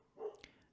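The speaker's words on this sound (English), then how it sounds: "And there is the dog barking" A dog barks once, faint and distant in the background, a single short muffled bark in an otherwise quiet room.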